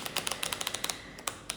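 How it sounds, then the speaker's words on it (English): A new deck of cards shuffled at close range, producing a quick irregular run of crisp clicking snaps, fairly quiet, with no talk over it. "while I'm shuffling this deck, because it is new, so I have to shuffle it a little bit longer"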